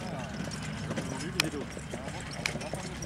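Hooves of a horse clip-clop on the ground during a riding lesson, a soft rhythmic beat under low ambient noise with a couple of brief sharper clicks.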